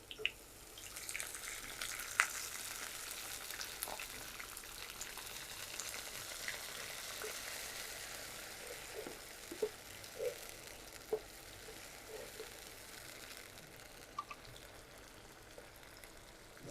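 Ginger garlic paste fries with softened onion in a pan, giving a quiet, steady sizzle broken by a few faint clicks and taps.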